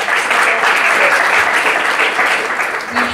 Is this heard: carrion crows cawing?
no